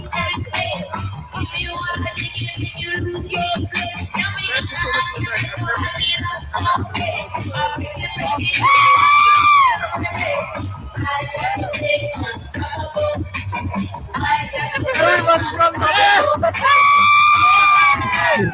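A large crowd screams and yells in a loud, continuous roar, with high shrieks swelling at moments and voices talking through it.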